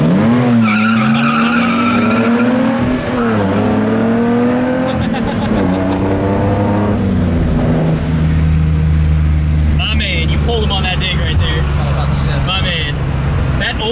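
Nissan Skyline dig race, loud engine revving hard through rising gear pulls with tire squeal, continuous and close throughout, with voices over it.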